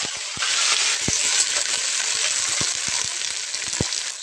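Okra fries in hot mustard oil in a kadai, a steady close sizzle with occasional sharp pops and stirring knocks, no voices.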